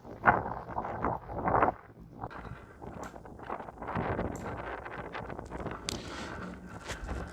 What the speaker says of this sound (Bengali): আজকের নদীতে অনেক বাতাস যার কারণে আসলে অনেক শব্দ হইতেছে